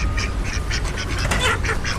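Kuttanad ducks at a pet shop quack in a steady, continuous chorus of repeated nasal calls, loud and close, over a constant background hum, with no voices.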